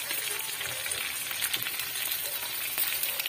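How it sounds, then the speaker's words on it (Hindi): Onion, potato and parwal fry together in hot oil, a dense continuous sizzle at moderate level with no pauses. "हम डालेंगे इसमें प्याज, आलू, प्याज, परवल सब एक में भूजेंगे"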